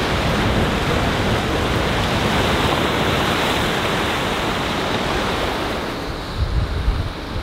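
Ocean waves wash against the rocky shore at Portland Head Lighthouse in a loud, steady roar of surf, with wind buffeting the microphone throughout and a slightly stronger surge near the end; no one speaks.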